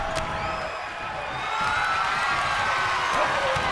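A crowd in a wrestling video game cheers during a tornado tag match, a steady, dense roar of voices holding at a constant level and swelling slightly toward the end.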